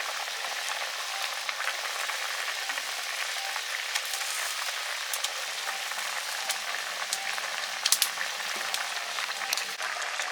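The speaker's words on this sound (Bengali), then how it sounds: "টক ফুটে গেছে এবার মাছগুলো দিয়ে দিচ্ছি" Fish drop into a boiling sour broth, a continuous soft bubbling and sizzling wash with scattered small pops and ticks, fairly faint and steady.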